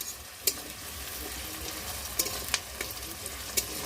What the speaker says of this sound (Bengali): তেল গরম হওয়ার পরে পেঁয়াজ, ক্যাপসিকাম টুকরোগুলো মোটামুটি দিয়ে দিয়েছে।